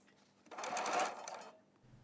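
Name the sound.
sewing machine basting long stitches in the seam allowance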